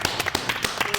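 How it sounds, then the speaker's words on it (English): A group of people clapping: sharp, evenly spaced claps land about every sixth of a second, loud and close, with faint talk underneath. "We're clapping for the rich guy?"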